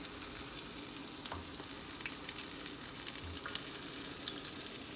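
Akara bean fritters frying in a generous depth of palm oil: a steady, close sizzle with scattered crackles and small pops running the whole time, no voices.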